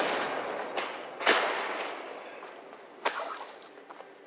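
A Confringo fire spell is cast in Hogwarts Legacy during combat with spiders, giving a couple of loud bursting blasts with sharp impacts and rumbling tails, with no talking.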